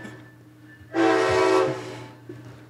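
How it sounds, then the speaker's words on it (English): Freight train horn sounding at a downtown street crossing, one loud sustained blast of about a second over a low rumbling engine, moderately near. "Oh yeah, they like to do their honking. So, right when they come through these intersections"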